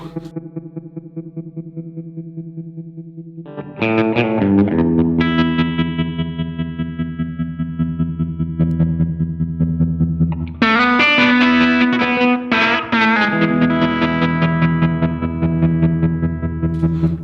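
An electric guitar run through a choppy tremolo effect, with distortion and a wet, modulated tone: a quiet held chord first, then louder sustained chords that pulse rhythmically, and a brighter strummed burst later, all instrumental with no voices.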